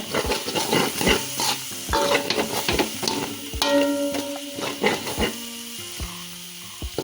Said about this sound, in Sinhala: ඊට පස්සේ යාළුවනේ අපි මේකත් මේ විදිහට මිශ්‍ර කර ගන්නවා හොඳට